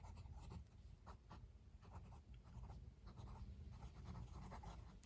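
A Just Turnings Deluxe fountain pen scratches softly across 90 GSM Clairefontaine paper in quick, close strokes, with quiet room tone in between.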